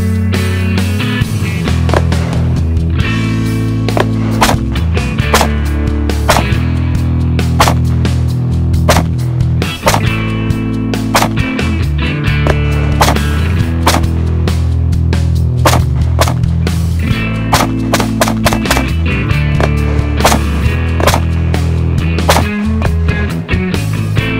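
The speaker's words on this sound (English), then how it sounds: "We've shot a little bit of steel ammo. We've shot multiple brass ammos" Gunshots crack at an outdoor shooting range during a 3-gun practice day, firing steel and brass ammunition: many sharp, loud reports in irregular bursts and single shots, with brief gaps between strings of fire.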